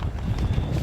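Horse hooves clopping and scraping over rough, rocky mountain trail terrain along the Continental Divide on horseback, a dense, steady run of close thuds and scuffs with one slipping step, no talking.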